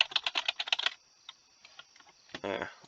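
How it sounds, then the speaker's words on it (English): Quick bursts of typing on a clicky computer keyboard, a rapid rattle of sharp key clicks up front followed by a few scattered taps, with some speech-like noise near the end. "Very kind of like clicky keyboard."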